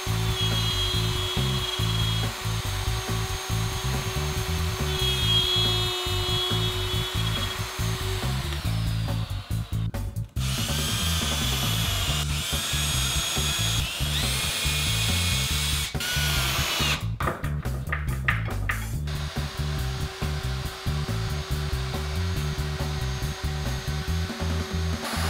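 A power tool bores mortises into a wooden bed rail, its high whine running continuously with repeated pitch shifts and brief breaks as the cut changes, loud and close.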